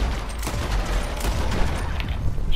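Video game gunfire in an online lobby rattles in a dense, continuous fusillade of rapid shots, loud and close throughout with no pauses.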